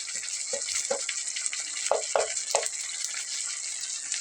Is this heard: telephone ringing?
no